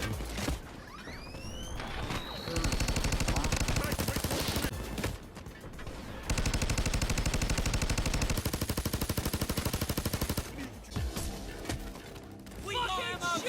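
Sustained automatic gunfire from a heist-shooter video game, Payday 2, rattling in long dense bursts with brief lulls between them, loud and close, while voices shout over the shooting.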